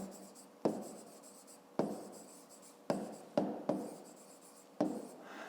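Pen or pencil strokes on paper while working a 5th-grade maths exercise: several short scratching bursts, each starting sharply and fading, with pauses between them, faint and close, and no speech.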